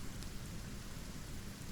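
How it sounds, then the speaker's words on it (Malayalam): Steady, dense rain falling, a continuous even hiss with a low rumble beneath, constant throughout and without any voices. "മഴ ഇപ്പൊ കുറയും തോന്നില്ല."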